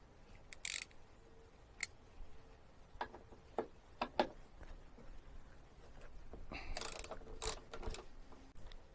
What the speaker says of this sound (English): remove this strike plate right here by removing these two T40 screws here